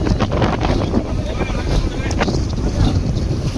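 Strong wind at sea on a fishing boat in the Arabian Sea buffets the microphone in loud, continuous gusts, with the rumble of the boat and water beneath.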